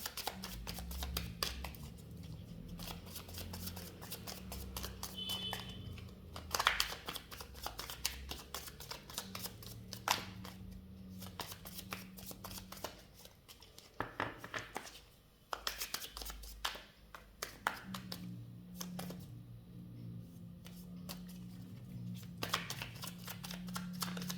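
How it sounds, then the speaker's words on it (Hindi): Tarot cards being shuffled by hand, giving a steady run of soft papery riffles and flicks over a low background hum, close and fairly quiet, with no talking. "I don't take the fallen cards, so I will shuffle it again."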